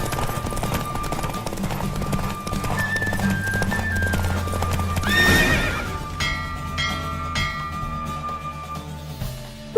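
Horse hooves clip-clop in a race in the video game The Witcher 3, with a whinny partway through and steady rhythmic galloping footfalls up close.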